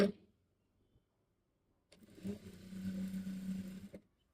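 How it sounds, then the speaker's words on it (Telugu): A sewing machine runs a reverse stitch on a Punjabi dress top, starting after a quiet pause and holding about two seconds of steady close motor whir with needle chatter before stopping. "ఇప్పుడు దీన్ని ఇలా రివర్స్ చేసుకుని ఒక పాదం గ్యాప్ ఉండేలాగా ఇంకో కుట్టు అయితే వేయండి."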